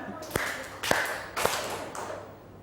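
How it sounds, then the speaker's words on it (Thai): A group of second-grade students in a classroom clapping their hands together, giving three or four sharp collective claps spaced about half a second apart over a murmur of background voices. "พร้อมแล้วปรบมือสามครั้ง"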